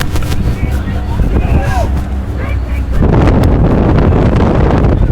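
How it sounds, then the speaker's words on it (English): Stiff headwind gusts during a rowing race buffet the microphone in heavy, uneven gusts, growing rougher halfway through, with faint voices and water splashing underneath. "Very intermittent, stiff headwind gusts. Definitely strong gusts here."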